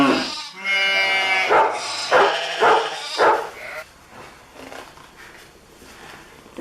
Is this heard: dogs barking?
yes